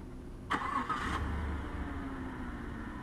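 A 2015 Chevrolet Tahoe 2WD LT fires up by remote start: a short cranking burst, then the engine settles into a steady, fairly quiet idle heard from outside.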